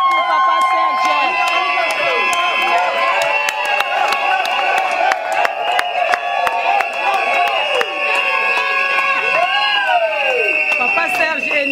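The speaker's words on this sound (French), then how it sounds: "Acclamons pour Papa Serge" At a civil wedding ceremony, a crowd cheers, claps and whoops. The lively, continuous cheering and applause carries high, ringing shouts and fills the room the whole time.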